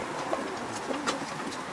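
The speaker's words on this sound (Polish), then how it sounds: "O, no mamy już zakoszowane 15 gołębi" Soft racing pigeon coos sound faintly a few times over a steady, noisy background hum.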